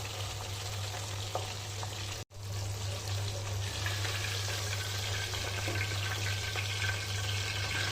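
Pabda fish frying in oil on high heat, a steady crackling sizzle with a low background hum, interrupted by one brief cutout before the busy frying resumes, with no talk.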